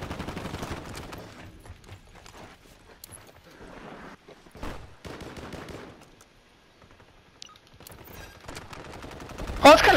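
Bursts of automatic gunfire and single shots in Call of Duty Modern Warfare 3 Warzone ranked play, some distant and some close, rattle in uneven volleys with a sharp loud burst at the end, while players talk over it.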